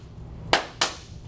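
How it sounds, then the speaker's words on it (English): Two sharp, separate hand claps about a quarter second apart ring out in a quiet room, the kind a football offense uses as a cadence signal. "We clap."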